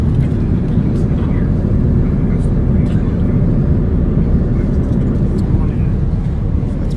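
Airplane cabin noise during a flight to Amsterdam: a loud, constant low roar that fills the whole stretch, with faint cabin sounds on top.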